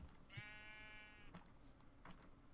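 A Minecraft sheep lets out a drawn-out wavering bleat, followed by a few soft crunchy clicks, heard faintly and close with no voices.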